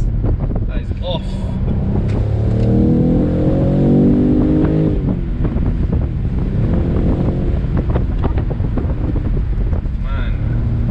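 A 2020 BMW M850i Cabriolet accelerates hard with the pedal floored, its engine note rising loudly in sweeping upward harmonics amid heavy wind rush, with a voice speaking over it.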